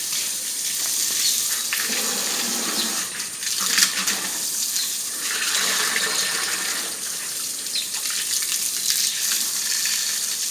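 Water sprays onto a newly built brick wall to soak it, a continuous hissing gush that swells and eases in uneven surges, fairly close and steady with no speech.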